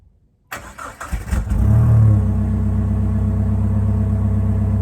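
A Jeep Wrangler TJ engine cranks and catches, rising to a loud, steady, rumbling idle close by.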